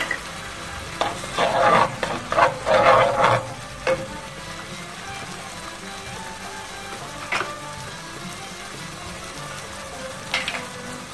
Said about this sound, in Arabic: نقليو هذيك الثوم مع الطوماطيش